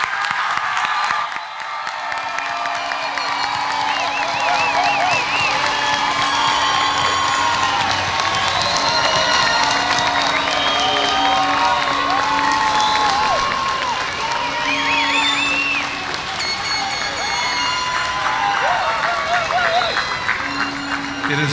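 A large commencement crowd applauds and cheers for the graduates, loud sustained clapping mixed with shouts and whoops, with voices calling out throughout and some whistles rising above the din.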